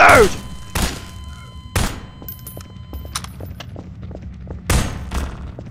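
Gunshots ring out in Garry's Mod, four loud, separate blasts spaced irregularly, with quieter clicks and thuds between them.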